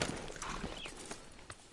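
Horse hooves clop at a walking pace in the Red Dead Redemption 2 video game, a faint, steady stream of soft hoofbeats over an outdoor ambience with no talking.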